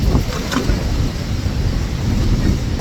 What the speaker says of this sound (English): Wind gusts going up quite strongly as well.